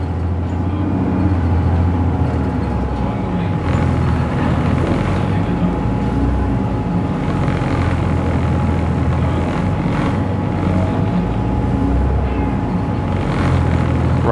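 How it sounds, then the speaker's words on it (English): Constant engine drone and rumble from inside a noisy city bus riding around Humber Bay in Toronto, steady and loud throughout with a faint tonal whine and no speech. "noisy bus will do"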